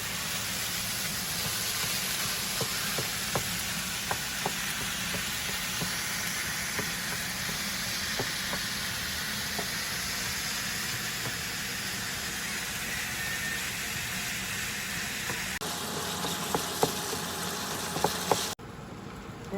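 Ground beef browns over medium heat in a pan with a steady, dense sizzle and hiss that runs the whole time, punctuated by faint pops and a few clatters near the end.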